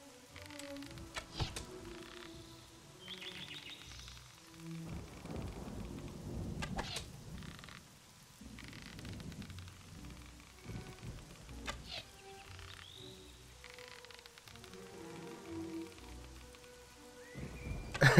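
Steady rain with rumbling thunder bursts in a video game, a continuous outdoor storm ambience with no voices.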